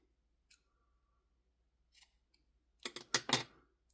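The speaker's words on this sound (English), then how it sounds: "Now we're just going to cut our yarn here." Scissors snip through crochet yarn after a finished chain of seventy stitches: a faint click at first, then a quick cluster of three or four sharp, close cutting snaps near the end in a quiet room.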